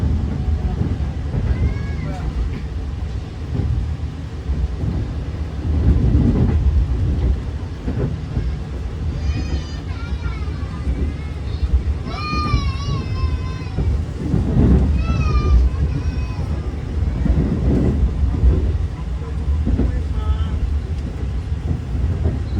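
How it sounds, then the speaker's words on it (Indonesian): A direct passenger train runs through Cirebon Kejaksaan station without stopping, giving a loud rumbling roll of wheels on rails with a few high squealing tones over it, while a voice talks throughout. "Dan kali ini kereta api direct train tidak berhenti nih."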